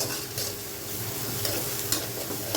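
Pointed gourd (potol) fries in oil with onion and garlic over low gas heat, giving a soft, continuous sizzle with occasional light stirring clicks, close and fairly quiet with no talking.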